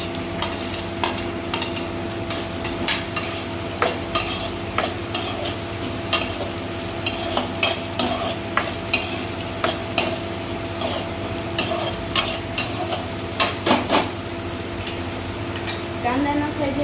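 Onions and chillies frying in a pan as they are stirred, a steady sizzle under intermittent scraping and clinking of a utensil against the pan, close up, with a voice speaking at times.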